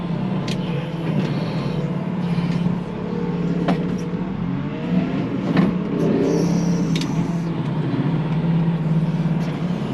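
A truck arriving to deliver road planings at a muddy yard, its steady loud engine drone rumbling close by for the whole stretch, with faint clanks and knocks over the top.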